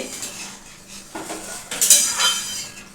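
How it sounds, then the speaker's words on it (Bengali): Fish curry (katla with potato) in a pan gets water added, heard as faint splashing and sizzling with a few sharp metallic clinks of utensils against the pan, close and fairly quiet. "এবার আমি কিন্তু মিশিয়ে দেবো জল।"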